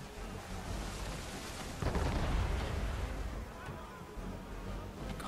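Ship cannon fire from a naval battle in Assassin's Creed III, a heavy low boom near two seconds followed by a rumbling roll, over a steady bed of sea and battle noise.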